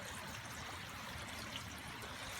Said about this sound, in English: We have a clean stream that's running through here before the horses.